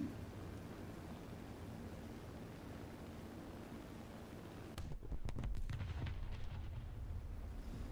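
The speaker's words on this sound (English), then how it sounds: "I just want to see what the explosion looks like" A 12,000 lb earthquake bomb detonates in the War Thunder video game: a steady broadband roar of engine or wind noise is abruptly broken by a sharp, heavy blast whose crackling rumble lingers for several seconds.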